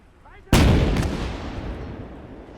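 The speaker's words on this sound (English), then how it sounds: "That explosion should have killed a lot of troops." Artillery gun in the Gates of Hell war game fires with a sudden loud boom, the blast rolling out into a long decaying rumble, with a second sharp crack a half second later; faint voice beforehand.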